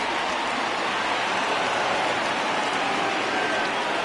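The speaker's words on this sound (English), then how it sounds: "we've mentioned the conditions aren't ideal with the rain coming down" Steady rain falls over a baseball stadium in the video game MLB The Show 2020, making a dense, even hiss at constant loudness with no breaks.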